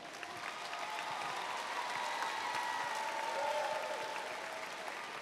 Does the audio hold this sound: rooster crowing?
no